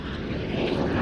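A BAC Jet Provost jet trainer flies over the Cosford Airshow, its engine giving a steady, loud, broadband roar that swells slightly toward the end.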